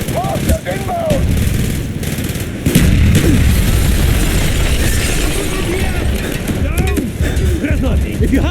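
Mortar explosions and gunfire from Call of Duty: Black Ops (2010) land in a loud, dense battle soundscape of booms and blasts. Shouted voices run over the din throughout.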